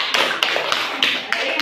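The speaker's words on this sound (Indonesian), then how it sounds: "Kita tepuk tangan." A group in a training session clapping hands together in a few sharp, evenly spaced bursts, close and fairly loud, with faint voices in the background.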